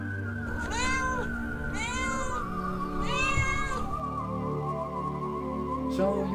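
A cat meows three times in drawn-out, rising and falling cries with a steady hum underneath, then goes quiet and gives one brief final call near the end.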